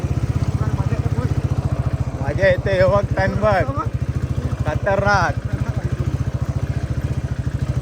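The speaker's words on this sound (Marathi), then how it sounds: "सध्या तरी आपण चढतोय बाईक घेऊन, बघू काय होतं." A motorcycle engine chugs steadily in a low, even rhythm as the bike climbs uphill on the way to Kothaligad fort, with someone talking excitedly over it in bursts.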